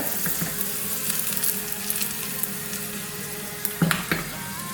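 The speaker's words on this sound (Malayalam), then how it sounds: "വറ്റൽമുളക് ഇട്ട് കൊടുക്കുക" Two dried red chilies frying in oil with popped mustard seeds for a Kerala pulissery tempering; a steady, bright sizzle with a brief cluster of sharper crackles near the end.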